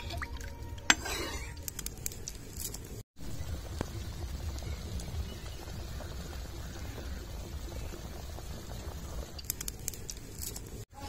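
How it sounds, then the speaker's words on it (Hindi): Masala curry gravy being stirred in a cooking pot right after water is poured in for the broth, with steady liquid bubbling, sloshing and scraping close by for about eleven seconds, no talking. "रस के लिए हम इसमें पानी डाल देते हैं। तो बढ़िया से इसको चला देते हैं"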